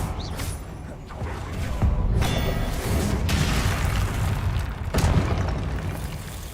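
Booming blasts of the Confringo spell in Hogwarts Legacy, several heavy explosions spread across the stretch, the loudest near the end, with rumbling debris between.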